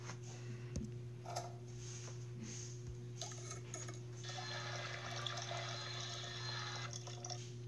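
Water pouring in a video game cooking scene, a thin splashing trickle with light drips and soft clinks of dishes, heard alone over a steady low hum.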